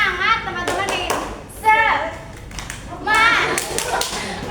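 A group of adults performs a rhythmic 'tepuk semangat' clap in an early childhood education session, sharp hand claps in patterned bursts mixed with lively chatter and laughter.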